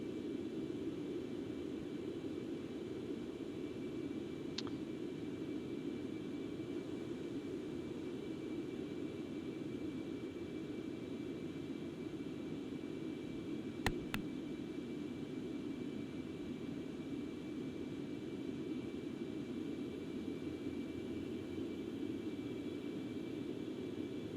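Concorde jet engines in the X-Plane 11 flight simulator produce a steady, even roar that holds constant throughout, with a faint tonal whine above it and a brief click partway through.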